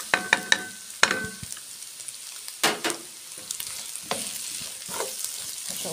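Meat, caramelised onion, garlic and nutmeg sautéing in a pan, soft sizzling under sharp scrapes and clacks of a spoon stirring, with no talking.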